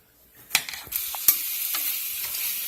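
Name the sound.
food frying in a pan with coconut oil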